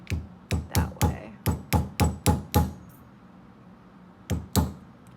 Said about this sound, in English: I'm actually going to use my little dowel and punch it down that way